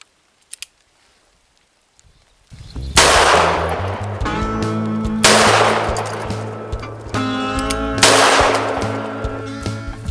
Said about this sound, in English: first set 50 yards with a 44 Magnum